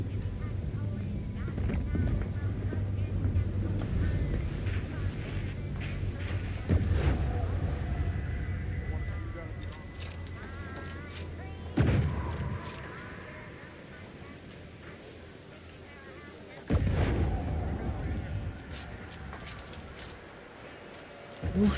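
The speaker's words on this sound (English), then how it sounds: "Okay, that's where it's exploding." Explosions in the video game The Outer Worlds 2 thud in the distance a few times, spaced well apart, under a continuous hum of game ambience while a person talks.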